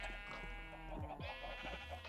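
Sheep bleat in the Minecraft world, a couple of wavering, nasal calls rising over quiet game ambience with no talk.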